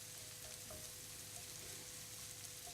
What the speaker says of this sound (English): There's that lovely sizzling sound that always makes me feel like I'm being applauded in my kitchen.